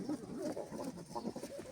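Pigeons in a mini zoo giving soft, low cooing calls in a quick run of murmured notes, faint and close-sounding over a short stretch.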